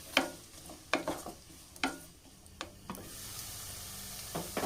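Onions with curry leaves being sautéed in a pan for chicken roast: several sharp spatula scrapes and taps at irregular intervals, then a soft, steady sizzle rising toward the end.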